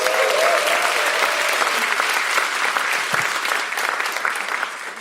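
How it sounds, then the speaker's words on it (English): Loud, sustained applause from a large audience, a dense patter of clapping that gradually tapers off toward the end. "Let's give them a round of applause."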